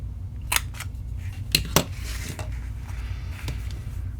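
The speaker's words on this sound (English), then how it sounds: "I am going to use my corner rounder" A few sharp, crisp clicks and snaps of a paper-crafting corner rounder punch cutting cardstock, isolated close-up hits spaced over a quiet background.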